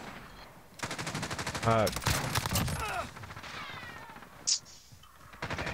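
Rapid gunfire in a custom Shipment match of a shooter game, several loud bursts of shots mixed with other game effects while a player swears and talks over them.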